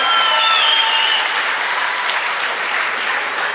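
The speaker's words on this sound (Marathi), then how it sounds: "एकदा अर्शितासाठी एकदा जोरदार टाळ्या होत्या सर्वांनी." Students in a classroom clap loudly together for a girl, a dense, steady burst of applause that holds for several seconds with no talking over it.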